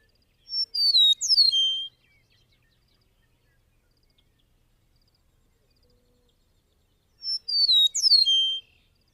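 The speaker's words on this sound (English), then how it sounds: "This meadowlark is a very nice singer." A meadowlark sings two short, clear, descending whistled phrases, several seconds apart, bright and isolated against near silence.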